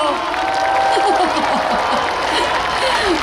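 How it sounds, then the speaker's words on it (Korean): Concert audience at a KBS super concert applauding after a singer's closing remarks, a dense, continuous wash of clapping and crowd cheer that stays loud and steady throughout. "큰 박수 부탁드립니다"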